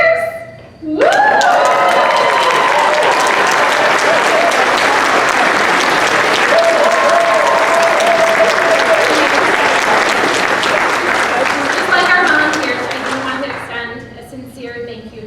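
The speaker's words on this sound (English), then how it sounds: "a round of applause for everyone" A large audience at an awards celebration applauds loudly and steadily for about fifteen seconds, with whoops and cheers and a few voices calling out over the clapping before it tapers off.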